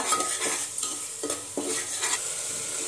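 Spices and yogurt sautéing in a pan, a soft continuous sizzle with several distinct scraping stirs of a spoon against the pan, close and fairly quiet.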